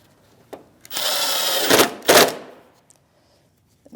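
A power tool with a 7mm socket drives the bumper bracket mounting screws on a 2016-2025 Chevrolet Malibu. There are two short bursts of whirring, the first about a second long and the second briefer, surrounded by faint clicks and handling noises, with no talk.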